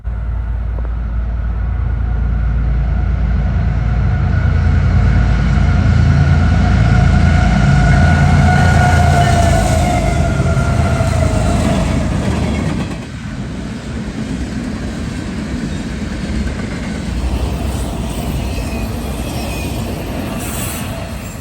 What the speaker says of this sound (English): Next up was a Union Pacific Manifest